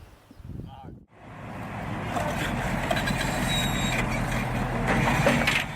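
A MAZ truck hauling a 20-ton load without chains drives in the middle of nowhere, its engine a steady, loud rumble that swells after a brief opening sound, with a voice talking over it.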